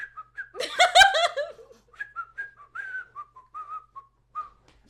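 Someone whistles a short, wavering tune up close. A brief burst of laughter cuts in near the start, then the whistled notes continue alone.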